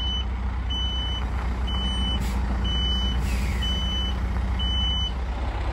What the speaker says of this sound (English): Got the big truck today.